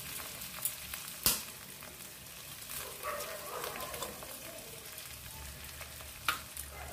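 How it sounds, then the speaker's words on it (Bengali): Three eggs stir-fried into a scramble in a pan as filling for egg momos, with a soft steady sizzle and occasional sharp spatula knocks against the pan, quiet and close with no speech. "ডিম দিয়ে দেওয়ার পর বেশ কিছুক্ষণ নাড়াচাড়া করে ভেজে ভুজিয়া টাইপের বানিয়ে নেব।"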